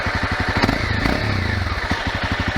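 A 2018 Honda CB300F motorcycle engine idling close by, with a steady rapid exhaust pulse throughout and a brief, slightly busier patch in the middle.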